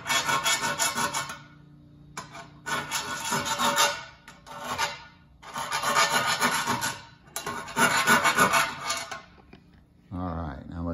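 A hand file rasps around inside a drilled hole in a vintage hot rod part, in four or five bursts of rough back-and-forth strokes separated by short pauses, close up, with a person speaking briefly between bursts.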